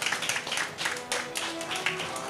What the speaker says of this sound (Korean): 박수 한번 주셔야 될 것 같아요.